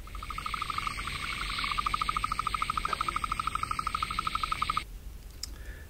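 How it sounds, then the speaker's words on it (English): Rapid, evenly pulsed trilling call of a painted frog, a steady run of clicks lasting several seconds before stopping abruptly, with faint background hiss and no talking. "Now, this one's a bit of a different sound. The painted frog."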